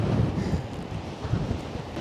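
Steady seaside wind on the Curonian Spit buffets and roars across the microphone, a continuous low rumble with no voices.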